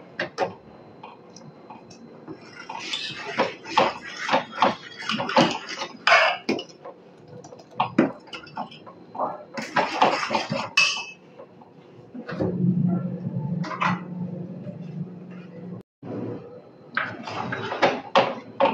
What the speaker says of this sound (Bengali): দিয়ে খুব ভালো করে নেড়ে নিতে হবে যেন দলা হয়ে না যায়